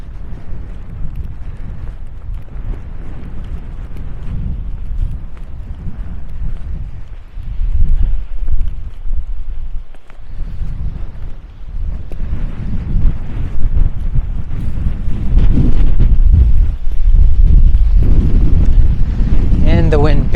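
Strong wind buffeting the microphone during a hike on the Tablelands in Newfoundland, a steady low roar that swells louder and gustier toward the end, with no voices over it.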